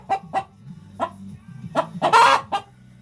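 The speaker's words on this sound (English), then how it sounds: "She wants the one that Dottie's in. She's mad about it" An agitated hen clucks loudly in a backyard coop over an occupied nesting box, a close series of sharp, irregular squawking clucks rising to a longer, harsher cackle near the end, with no talking.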